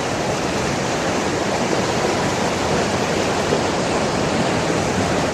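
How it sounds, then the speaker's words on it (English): A flash-flooded mountain stream in the Rocky Mountain National Park area near Estes Park, Colorado, rushes in a dense, unbroken roar, loud and close, with no voices over it. "getting tossed down this little mountain stream"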